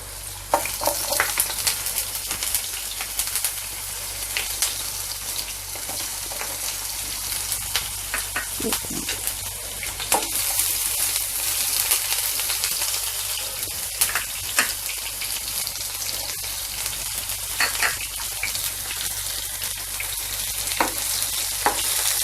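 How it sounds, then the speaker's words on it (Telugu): Onion pieces sizzle and crackle steadily in hot oil for prawns fry, a dense close frying hiss with occasional sharper pops and stirring, no voices. "ఇప్పుడు మనం ఉల్లిపాయ ముక్కలు వేసేసుకుందాం ఇందులో."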